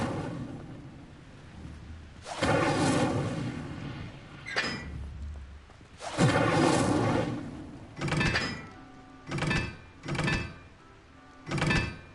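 Incendio fire spell cast repeatedly in Hogwarts Legacy, several distinct whooshing bursts of flame, the first two long and loud, then three shorter puffs in quick succession, each rising sharply and fading out.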